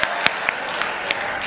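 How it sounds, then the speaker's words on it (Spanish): Short burst of applause and scattered claps from an audience, with a few sharp louder claps standing out. "Vea, ese aplauso de orgullo colombiano"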